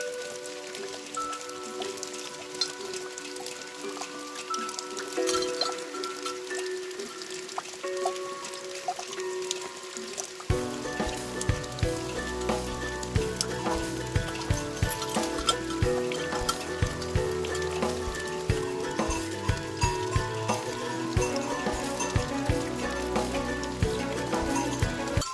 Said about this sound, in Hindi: तो अभी जो बारिश है वो तो बंद नहीं हो रही है